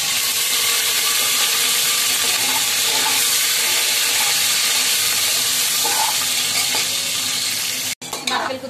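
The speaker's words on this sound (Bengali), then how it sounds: "আমি এবার আলুর টুকরো আর কাঁচা লঙ্কা দিয়ে দিচ্ছি" Potato pieces and green chillies sizzle loudly in hot oil over fried bay leaf and dried chilli tempering, a dense, continuous frying hiss that holds steady before a brief break near the end, with no talk.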